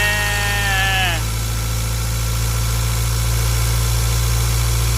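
A Ford Ranger pickup engine with a newly replaced turbo idles with a steady low rumble; a brief rising whine fades out in the first second, and no clear revving follows.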